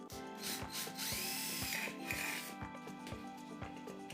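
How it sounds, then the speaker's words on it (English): A drill boring a hole in the edge of a small tin can, with a steady whining motor tone and rhythmic scraping bites as the bit cuts the metal, close up and without speech. "You need to drill a hole at the edge."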